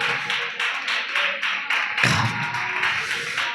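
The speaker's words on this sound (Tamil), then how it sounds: "2-3 கைத்தட்டு தான் கேட்குது." Sparse clapping from a church congregation at a Tamil Christian service, a handful of separate claps spread out over a few seconds, with one louder thump partway through.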